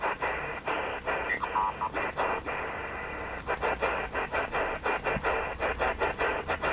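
A steady FD8 digital mode radio signal over shortwave static on a Si4735 receiver in USB mode, pulsing in regular rhythmic bursts with brief gaps between them.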